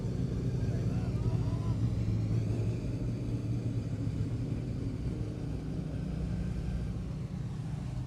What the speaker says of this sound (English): some action-packed heat racing going on here for our modified sedans